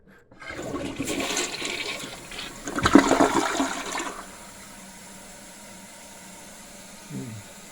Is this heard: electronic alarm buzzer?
no